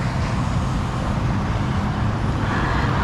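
Cars speeding past on a busy road, a dense, loud, unbroken traffic rumble with the whoosh of passing vehicles throughout and no voices.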